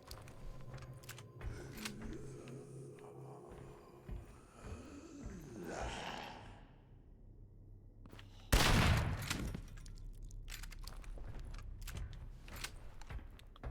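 Gunfire in the survival horror game Daymare: 1998 on PS4, with a loud burst of shots standing out around the middle over ongoing game ambience and scattered mechanical clicks.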